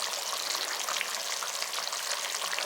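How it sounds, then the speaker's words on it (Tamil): Thick eggplant kuzhambu curry bubbles in a pan, a close, steady, dense crackling simmer with no voices. "குழம்பு பாருங்கள் நல்லா கெட்டியாக வந்து கொதிச்சிக்கிட்டு இருக்குது"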